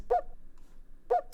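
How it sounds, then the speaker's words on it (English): Two identical short whoop shouts from a vocal sample, one at the start and one about a second later, each a sharp rising-and-falling cry, loud and dry against near silence. "you know that I use my signature whoop sound"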